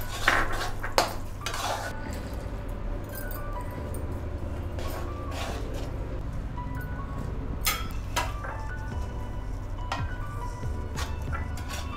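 Figs going into a kadhai of melted jaggery, stirred with a spoon for ragi dry-fruit ladoo: scattered metallic clinks and scrapes over a steady low hum, close and moderately quiet, no talk.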